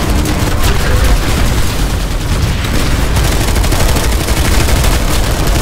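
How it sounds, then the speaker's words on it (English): Anti-vehicle turret firing in the Planetside 2 video game, a loud, continuous barrage of heavy booming shots mixed with surrounding battle gunfire. The dense, relentless noise runs throughout with no pauses. "I love this anti-vehicle turret"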